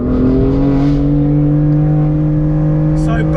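A BMW F82 M4's S55 engine winds out on a track day, a loud, steady, close droning tone that holds and climbs slightly with no break.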